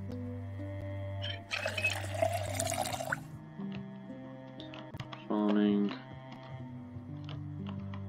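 In the Project Zomboid survival game, a container is filled with water: a pouring, running-water sound plays for about two seconds, then a short gurgling fill, under steady background music.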